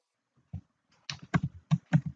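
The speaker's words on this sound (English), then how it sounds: "We'll type the wget command to get our archive." Keystrokes on a computer keyboard while entering a wget command, a lone tap followed by a quick run of crisp, close clicks in uneven bursts, with no voices.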